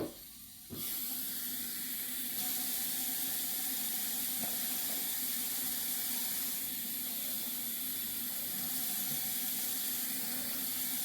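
Water pours steadily into a container while mixing homemade disinfectant wipes, a continuous close hissing splash starting after a brief quiet moment and running on without talk.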